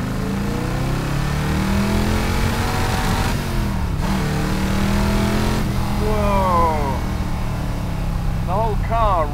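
A classic Iso Grifo, an Italian car with an American engine and a high valve overlap cam, revs hard, its loud engine rising and falling in pitch as it drives, with a person talking over the engine noise.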